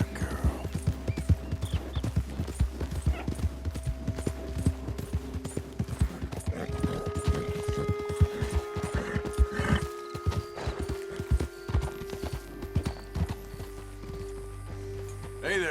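Steady hoof clip-clops of a horse moving at a walk in Red Dead Redemption 2, with a whinny and some talking over the game soundtrack.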